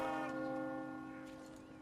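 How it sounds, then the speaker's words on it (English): A church-style bell tolls in the Mount & Blade: Napoleonic Wars video game during a siege battle, a rich ringing tone with long decaying overtones, steady and fairly near. "But the bell continues to be rung."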